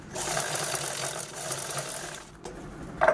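A sewing machine stitches fabric for a triangle cloth pouch, running in a fast, steady mechanical whir for about two seconds, then stopping briefly before a short restart, close up.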